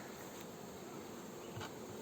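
A steady, close hum of many honeybees buzzing together at a hive, a soft continuous drone with no voices.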